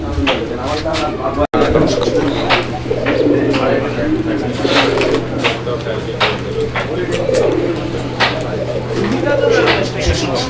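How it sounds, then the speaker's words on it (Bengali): A male fancy pigeon coos loudly and close, in a continuous, rolling, throaty run of repeated coos. "আপনারা গররাটার ডাকটা দেখতে পাচ্ছেন কতটা অসাধারণভাবে গররাটা ডাকে ভরপুর ডাকের একটা কবুতর"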